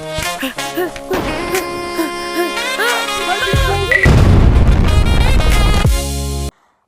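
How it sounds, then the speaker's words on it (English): Firework explosion in the VR game Animal Company, a burst of whistling, crackling game effects that swells into a loud, dense roar before cutting off abruptly. "So the firework explosion."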